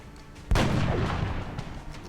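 A sharpshooter fires in a video game: one loud, sudden gunshot about half a second in, its boom ringing out and decaying slowly over the rest of the moment.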